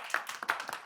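A few people clap for a trainer at a sales training session in London, a brief, sparse, moderately faint patter of individual claps lasting under a second.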